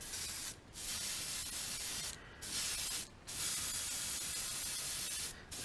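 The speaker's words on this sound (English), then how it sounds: "And we'll just kind of spray a little bit." Spray paint hisses onto a bluegill crankbait fishing lure in short bursts, four steady sprays with brief pauses between them, close and fairly quiet.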